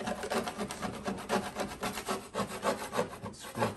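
Scraping out an old cork from a fitting, a steady rhythmic rasping and rubbing close by, with repeated strokes throughout and no talk.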